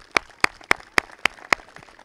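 Six sharp, evenly spaced hand claps at a graduation ceremony, crisp and fairly close, with no other sound between them.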